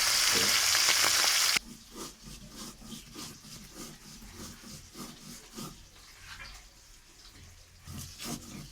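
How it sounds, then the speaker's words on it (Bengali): Rohu fish fry in hot oil with a continuous crackling sizzle, loud and hissing at first, then settling into quieter, steady spitting close up. "ভালো করে উল্টে পাল্টে লাল লাল করে আমি সবকটি মাছ ভেজে নিচ্ছি।"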